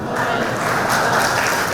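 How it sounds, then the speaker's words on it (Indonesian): An audience at a university faculty anniversary gathering claps in a dense, steady burst of applause throughout. "Beri tepuk tangan yang meriah kepada Prof. Nana."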